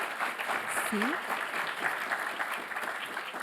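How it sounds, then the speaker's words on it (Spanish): An audience at a Spanish-language academic seminar on social science teaching gives a round of applause for the presenters, a continuous, fairly loud patter of many hands with a brief voice or squeak rising over it early on. "Nuevamente agradecemos a las expositoras. Démosle un aplauso"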